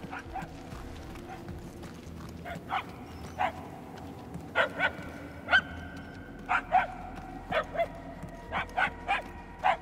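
Dog barks and yips in Marvel's Guardians of the Galaxy video game, a series of sharp, spaced barks growing more frequent, over a low ambient game background, with no talk.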